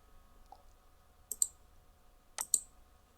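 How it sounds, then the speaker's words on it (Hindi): Computer mouse clicks during a Django web project tutorial, two close pairs of sharp, faint clicks, quiet and near, with no talking. "अब इस पर क्लिक करते हैं"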